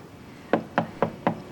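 Four evenly spaced knocks on a wooden door, sharp and fairly close, rapping alone against a quiet room, in a 1997 thriller drama setting.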